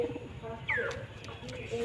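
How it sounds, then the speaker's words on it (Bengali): Male pigeons released from a home loft of about twenty birds give soft, brief coos and light wing flutters, faint and close, over a low background hum. "আজকে আমি প্রথম আমার নর কবুতরগুলো আমি ছাড়ছি"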